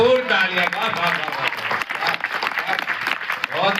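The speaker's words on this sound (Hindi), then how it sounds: "एक बार भरपूर तालियां।" Audience applause at a Hindi poetry recital, a brief burst of clapping mixed with voices speaking over it, near and fairly loud.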